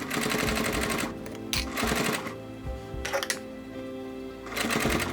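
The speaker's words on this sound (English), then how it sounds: "I like to do a couple stitches extra in the corners." Sewing machine stitching reinforcement in the corners of heavy material, running in several loud bursts with short pauses between them, close up and with no talk.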